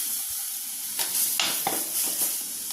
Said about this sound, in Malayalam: കാൽ ടീസ്പൂൺ ഗരം മസാല പൗഡർ നമുക്ക് നന്നായിട്ടൊന്ന് മിക്സ് ചെയ്യാം